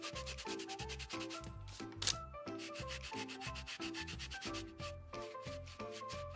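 A rag wipes weathered-wood paint off the high points of a textured surface, making rhythmic rubbing strokes in quick succession, close and steady, with no talking.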